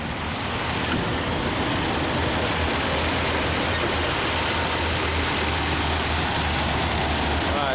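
A 1934 Packard Straight Eight engine idles steadily, a smooth, low continuous rumble that holds even for the whole stretch with no talking over it.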